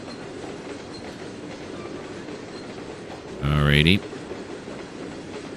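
Train running on rails in Trainz 2022: a constant rumble of rolling wheels with a brief loud horn-like burst, and someone speaking briefly over it.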